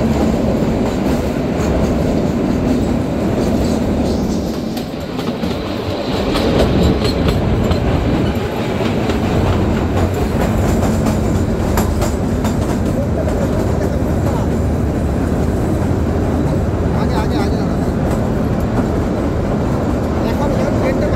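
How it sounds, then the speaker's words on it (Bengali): The Kalka–Shimla narrow-gauge toy train runs through the Barog tunnel with a loud, continuous rumble and rhythmic clickety-clack of wheels echoing in the enclosed space. Faint voices can be heard under the noise. "এখন ট্রেনটা বাইরে বেরোবে"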